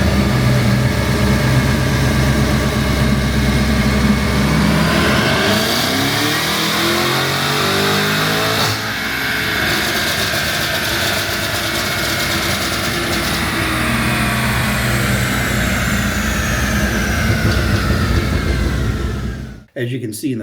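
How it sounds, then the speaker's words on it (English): Cadillac CT5 Blackwing fitted with Kooks long-tube headers and X-pipe running a dyno pull, the engine revving up steadily through the gears in a long loud climb before cutting off abruptly near the end. "this is the first pull on the dyno after the Kooks header installation"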